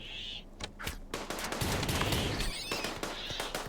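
Video game gunfire erupts in dense, rapid bursts of shots that run almost without pause, loud and close, with brief gaps at the start before the volley fills the scene.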